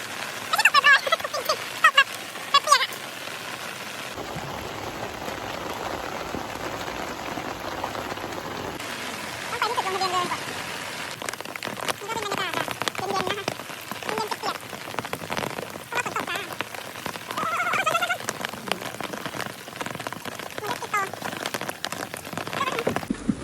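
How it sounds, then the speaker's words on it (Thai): Heavy rain pours down in a dense, constant roar of drops hitting surfaces at a botanical garden in Rayong, Thailand, with flooding, and faint voices now and then beneath it. "ฝนแบบ หนักหน่วงมาก"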